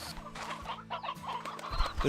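Chickens in the video game Slime Rancher 2 cluck and chatter steadily in a busy, overlapping stream of short calls over a faint low hum, with no voice on top.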